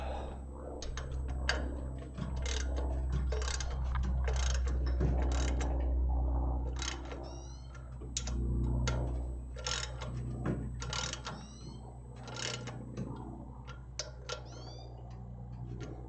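Bolts are being tightened during small engine repair, with quiet rapid ratchet clicks in irregular bursts and occasional metallic taps over a low background hum.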